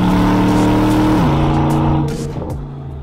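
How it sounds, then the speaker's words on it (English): An Aston Martin DBX Performance in Sport Plus mode sounds its engine and exhaust loudly and up close, a steady drone whose pitch drops as revs fall, then fades toward the end. "The exhaust system I like to have in Sport Plus because I like that more order content from the engine. I like the few more pops and bangs"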